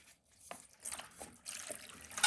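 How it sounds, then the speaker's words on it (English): Coolant drains from a water-cooled PC loop in an O11D XL case, quiet irregular trickles and drips with small gurgling bursts, close and faint, with no talking. "It should make the water go down faster."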